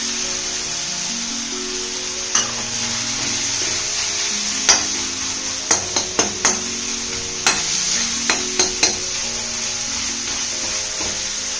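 Tomatoes cooking in a pan for a pea and potato curry, a low steady sizzle punctuated by about a dozen sharp taps and knocks as a spoon mashes and stirs them, close by, with no talk.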